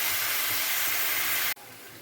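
Fenugreek greens frying dry in hot oil give a loud, close, steady hiss that cuts off abruptly near the end to a quieter sizzle.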